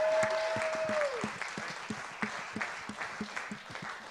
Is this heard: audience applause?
yes